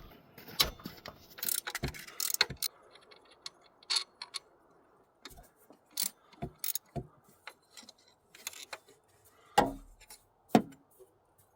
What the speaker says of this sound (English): You're going to need a 12mm to take these two bolts out.